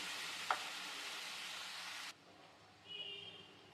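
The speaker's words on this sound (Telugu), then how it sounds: "ఇప్పుడు ఇదే బాండీలో చింతపండు పులుసుని ఉడికించుకుందాము" Tamarind pulp sizzles loudly in a kadai for about two seconds with a bright, hissing rush, then cuts to a much quieter simmer with a faint whistle-like hiss.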